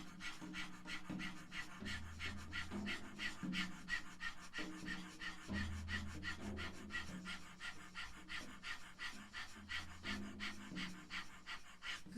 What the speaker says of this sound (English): is to have your tongue way out and to pant like a dog